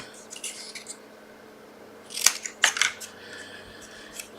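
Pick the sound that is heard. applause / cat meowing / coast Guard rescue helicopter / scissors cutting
scissors cutting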